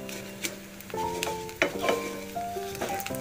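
Vermicelli roasted in a pan until reddish, giving a soft continuous sizzle with occasional spoon scrapes and clinks, fairly quiet and without talking.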